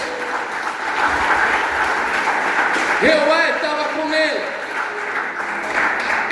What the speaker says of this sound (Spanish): Dele palmas al Rey de Reyes